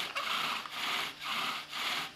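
A blade or rasp scraping out a knot in a chunk of end-grain wood, three rhythmic back-and-forth strokes with a dry, raspy texture, close and fairly loud.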